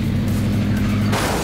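A diecast toy car smacks into the back of another toy car on a track, a brief rolling rattle ending in a sharper knock near the end, close and moderately loud.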